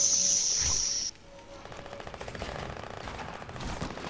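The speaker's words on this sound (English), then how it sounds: "I feel like I'm being shot from behind, like, southwest" Rapid bursts of gunfire from a Fortnite match crackle through a dense, busy mix, the shots close and fairly loud, with a high whine fading out early on.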